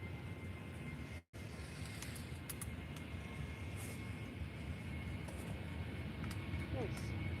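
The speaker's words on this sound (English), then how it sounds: "So now a Jet2 headed to Glasgow." A Jet2 airliner at Faro Airport, bound for Glasgow, gives a steady, broad engine roar that holds through the whole stretch, broken only by a brief dropout near the start.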